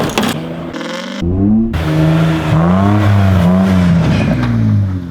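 BMW E36 drifting on snow in extreme cold, its engine revving up and down in loud, sustained bursts with rising and falling pitch close by, a brief dip in the middle.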